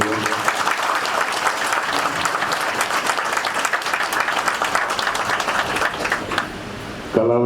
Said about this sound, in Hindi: मैं जमशेदपुर सामूहिकता के लिए एक बार ताली बजाने के लिए बोलूँगा